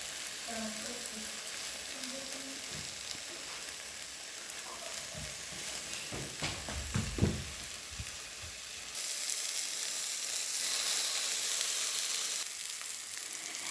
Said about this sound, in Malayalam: കുറച്ച് ഓയിലൊന്ന് ഒഴിച്ചു കൊടുക്കാം. ഓരോ വശം വേകുന്നത് വരെ ഇങ്ങനെയൊന്ന് തിരിച്ചു മറിച്ച് വെച്ച് കൊടുക്കാം.